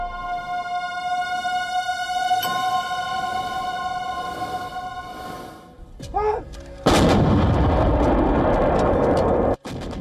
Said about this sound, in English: India called upon its Bofors guns. With relentless fire, India hammered enemy positions at high altitudes